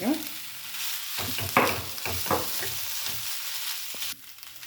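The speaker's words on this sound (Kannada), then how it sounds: "ಇದರಲ್ಲಿ ಈಗ ನಾನು ಮಿಕ್ಸ್ ಮಾಡ್ತಾ ಇರೋದು ಆಲೂ ಮಿಕ್ಸ್ ಮಾಡ್ತಾ ಇರೋದು" Potatoes are stirred into an onion tempering in a pan, giving a soft frying sizzle with several distinct scraping and stirring strokes near the mic, quieting toward the end; no talk.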